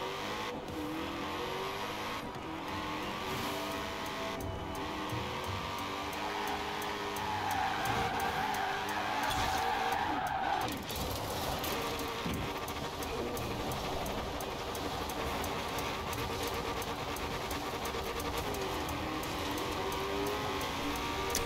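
A Koenigsegg races in Forza Horizon 4, its engine note droning and climbing through faint revving in a quiet game mix, with no talk over it.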